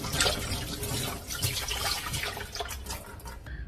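Hands rinsed under a running water tap: close, continuous splashing and trickling water for a few seconds, with no voices.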